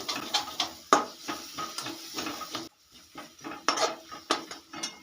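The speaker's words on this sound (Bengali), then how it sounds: "কাশুরি মেথিটাকে মশলার সঙ্গে একবার মিশিয়ে নেবো খুব ভালো করে" Dried fenugreek leaves are mixed into spices in a pan with a spoon, giving irregular metallic scrapes and clinks, with a short pause in the middle.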